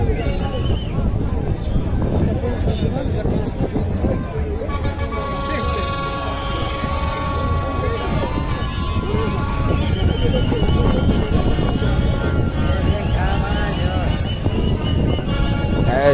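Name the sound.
horses neighing and hooves clip-clopping at festival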